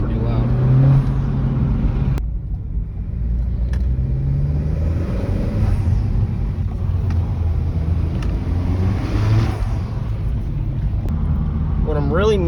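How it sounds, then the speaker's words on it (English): A 2022 Honda Civic Si turbo with a PRL intake and resonator delete drones loudly inside the cabin as the engine pulls and rises in pitch, with turbo noise during acceleration and people talking over it. "Turbo's pretty loud."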